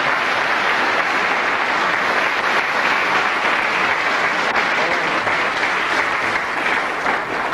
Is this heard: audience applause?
yes